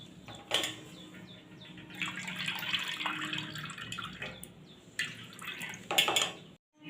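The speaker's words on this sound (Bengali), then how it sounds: "ছেঁকে জলটা ঝরিয়ে নেবো ছানা এভাবে একটু চেপে দিচ্ছি যাতে ছানা জলটা ভালো করে বেরিয়ে যায়" Water draining and dripping from freshly strained chhana being pressed in a kitchen, with soft splashes and a few clinks of utensils, fairly quiet and close.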